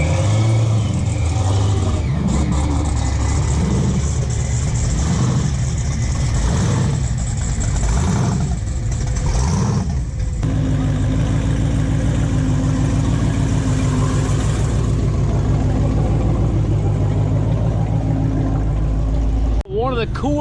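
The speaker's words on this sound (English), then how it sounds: "All these cars are leaving for the day" Cars crawl out of a car show exit in slow traffic, engines idling and revving nearby in a steady low rumble, with people talking throughout.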